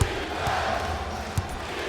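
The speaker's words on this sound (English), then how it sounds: "I'm hearing some boos from the crowd" A dense arena crowd roar, with booing blended in, fills an NBA Live 19 basketball game, loud and continuous, with a couple of ball bounces and faint commentary underneath.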